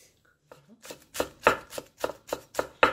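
A knife slices thinly through fresh vegetables on a cutting board, a quiet start giving way to a steady run of about eight crisp, evenly spaced chops, close and clear with no talking.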